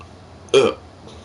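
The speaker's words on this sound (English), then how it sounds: "I get the worst hiccups ever." A single sharp, throaty hiccup, loud and close, standing alone in an otherwise quiet moment.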